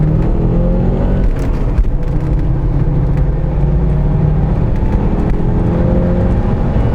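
An Audi 200 3B engine pulls hard in third gear, its loud, droning roar heard from inside the car as the revs climb steadily, with a faint bump partway through.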